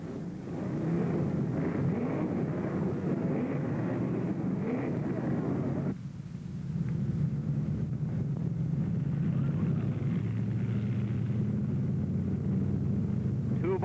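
Vintage 1964 Road America 500 race car engines start up, a dense low rumble that cuts out briefly midway before resuming steady and loud, with faint voices underneath.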